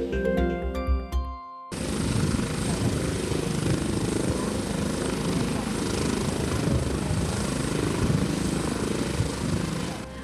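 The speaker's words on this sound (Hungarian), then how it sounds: "A Magyar Honvédség H-145 M-típusú helikoptere szállt le július 14-én az Airbus Helicopters Hungary gyulai családi napján." A Hungarian Defence Forces Airbus H145M helicopter lands at an Airbus Helicopters Hungary family day in Gyula. A brief tonal opening gives way to a loud, steady rotor and engine roar that holds for several seconds.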